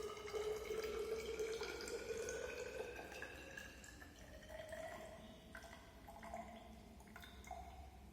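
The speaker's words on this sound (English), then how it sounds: "adjust up to the 100 ml with the purified water" Purified water poured into a measuring cylinder in a pharmacy lab, with a steady trickling stream that rises in pitch as the cylinder fills, close and moderately loud with no talk.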